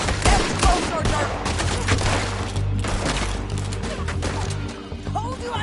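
Gunfire in a Red Dead Redemption 2 shootout among rocks: dense, sustained volleys of shots and bursts over game music and clatter, with voices shouting now and then.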